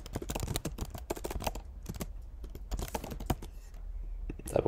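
Fast, steady keyboard typing while entering account details, a dense run of close clicks continuing without pause.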